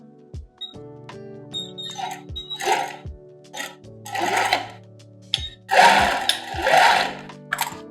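Sewing machine stitching elastic into an armhole: a low steady motor hum under short sewing bursts that grow louder in the second half, mixed with nearby fabric handling and clicks, no talking.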